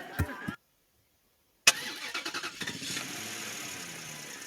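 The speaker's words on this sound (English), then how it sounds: "let's listen to sound effect like truck driving in parking structure" A truck drives through a parking structure: after a short noise and a moment of silence, an engine kicks in with rumbling pulses that settle into a steady, echoing drone.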